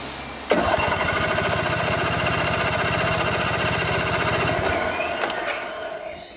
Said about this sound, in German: Hört ihr, der Motor dreht,